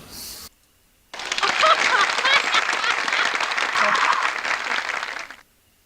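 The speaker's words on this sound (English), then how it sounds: "Everybody clap." A game-world audience at a player-owned town gathering bursts into dense, steady applause lasting about four seconds before cutting off abruptly, with a brief voice just before it.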